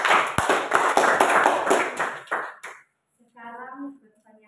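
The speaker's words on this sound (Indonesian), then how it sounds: "Berikan tepuk tangan." Classroom applause from students fills the first few seconds as a dense, fairly loud patter of hand claps, then stops abruptly and a voice begins speaking.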